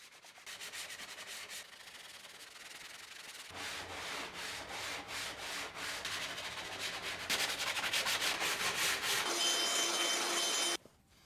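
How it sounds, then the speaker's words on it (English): Steady, scratchy sanding on wood between cabinet door slats, rapid back-and-forth rubbing strokes that grow brighter and louder toward the end, then stop abruptly. No talking. "I can start sanding in between the slats"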